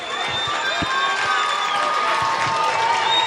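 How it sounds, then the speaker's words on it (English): Home fans in the stands at a 2006 Pennsylvania high school football game between Penn Hills and Kiski Area applaud a player, a loud, sustained crowd roar of clapping and cheering with occasional low thumps. "You hear the Kiski fans giving him a well-deserved round of applause."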